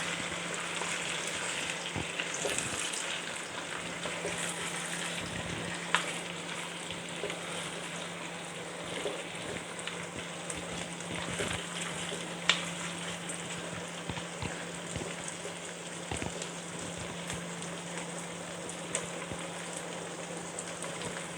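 Onions and chicken sautéing in a pan, a steady close sizzle and crackle running throughout with occasional stirring clicks, no talking.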